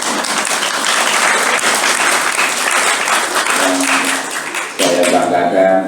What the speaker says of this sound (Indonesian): Aplaus untuk Pak Fathul Rasid ya.